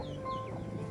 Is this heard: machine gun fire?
no